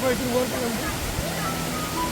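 A steady, dense roar of the Morjo waterfall in Kolhapur rushes continuously throughout, with faint voices just audible beneath it.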